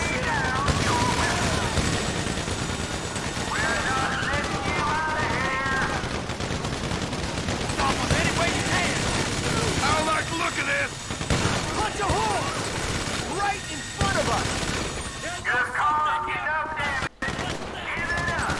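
Gunfire in GTA 5's Paleto Score mission heist shootout against the army: dense, sustained bursts of automatic weapons fire crackle throughout, loud and continuous, with brief gaps.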